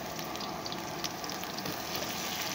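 Onions frying in a pan for biryani give a steady, moderately quiet sizzle with a faint crackle throughout, and no one is talking.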